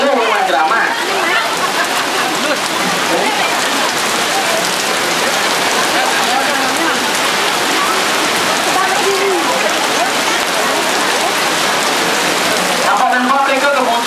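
Steady rain pouring down onto surfaces, a dense, loud, unbroken hiss of drops lasting throughout, with a voice talking faintly beneath it.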